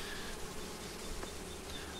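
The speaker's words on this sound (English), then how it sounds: "And lots of bees, which you like to see." Honey bees swarming at an open hive during a honey check, a steady, dense buzz that holds close and even throughout with no voices.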